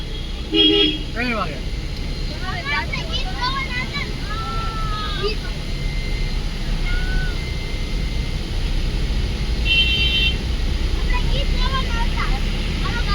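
Busy traffic by the Shamlaji temple, with a steady rumble of engines and car horns honking, one early and another later. People talk close by throughout.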